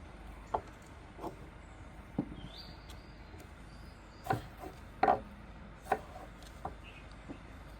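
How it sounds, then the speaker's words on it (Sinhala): A knife chops tomatoes on a board in a run of sharp, irregular knocks, some single and some in quick pairs, over a quiet hiss with no talk. "දැන් තක්කාලි කපා ගත්තා."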